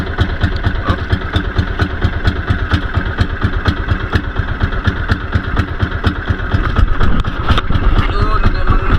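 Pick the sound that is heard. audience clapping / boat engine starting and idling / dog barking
boat engine starting and idling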